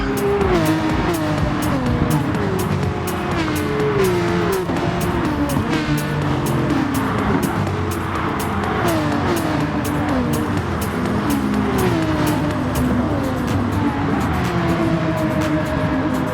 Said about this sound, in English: Green has let the 2 Porsches by on a measured strategy